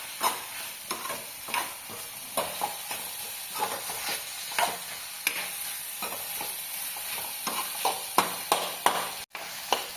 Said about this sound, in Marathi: आता ह्याच्यामध्ये खोबरं टाकून द्यायचं आपण आणि खोबरं पण थोडंसं भाजायचं